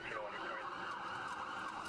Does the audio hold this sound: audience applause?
no